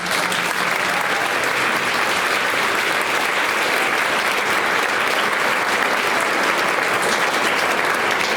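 Sustained audience applause honoring the Gay Men's Choir at an LGBTQ awards ceremony, a dense, steady wash of many hands clapping throughout, loud and continuous with no pause.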